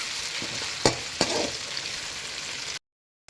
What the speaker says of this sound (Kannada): 1 ಟೊಮೊಟೊನ ಇವಾಗ ಹಾಕ್ಬಿಟ್ಟು ಫ್ರೈ ಮಾಡ್ಕೊಳ್ಳಿ.